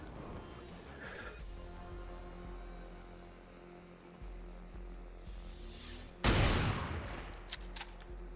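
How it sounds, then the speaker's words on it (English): Gunfire in the strategy video game XCOM Long War of the Chosen: a sudden loud burst of shots breaks over a steady low game soundtrack, followed by a couple of shorter sharp cracks. "we can actually start taking some shots here"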